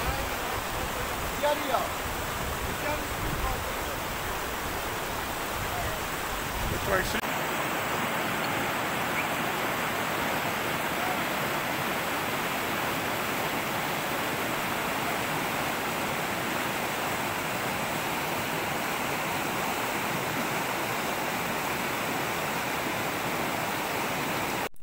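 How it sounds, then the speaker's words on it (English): A rushing mountain river roars steadily at a horse river crossing on the Mestia–Ushguli trek in Georgia, a loud, dense, unbroken wash of water noise, with brief speech near the start. "So this is what the river crossing looks like when you hire a horse."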